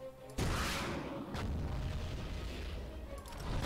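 A gunshot in the shooter WolfenDoom: Blade of Agony, one sudden loud boom followed by a long rumbling tail, with a second fainter blast about a second later.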